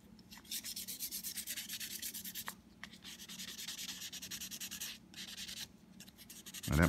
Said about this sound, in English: It's just smoothing out the 500 grit sanding lines.